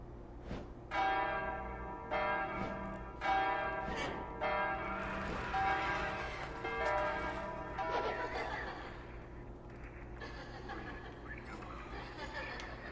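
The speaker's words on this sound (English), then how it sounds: "Can I ring the bell?" In the video game Silent Hill: Downpour, a church-style bell tolls in a slow, regular series of resonant strikes, each ringing out and fading before the next, then dying away.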